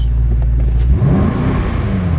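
A BMW M5 Competition engine with titanium exhaust idles low, then revs up around the one-second mark and holds a rising, throaty roar, close and loud.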